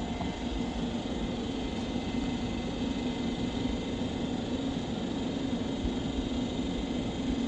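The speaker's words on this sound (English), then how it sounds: "This District Line to Wimbledon is now leaving." A London Underground District Line train bound for Wimbledon pulls away, giving a steady, loud, unbroken rumble and hiss that holds level throughout with no voices.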